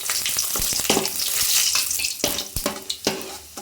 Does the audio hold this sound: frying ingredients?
yes